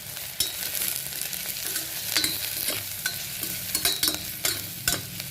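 Onions sautéing with salt, turmeric and chili powder in beetroot gravy, a steady sizzling fry with repeated scraping stirs of a spoon against the pan, close and continuous with no talking.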